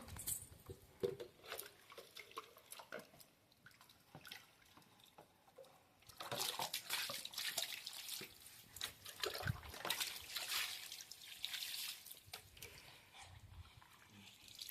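Steady watery sloshing and splashing as clothes are scrubbed by hand with shampoo in a village, continuous wet patter that grows louder and busier partway through, no speech.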